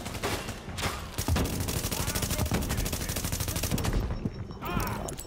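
Rapid, continuous gunfire in The Division, with snipers among the attackers: dense bursts of crackling shots hammering steadily for several seconds, fairly loud and up close, with a voice briefly heard near the end.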